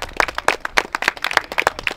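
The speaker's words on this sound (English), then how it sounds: "Let's have a round of applause for the guy that helped organize and set this entire club up" A crowd applauds at an awards ceremony, dense overlapping hand claps, loud and close, going on steadily for the whole moment with no speech over it.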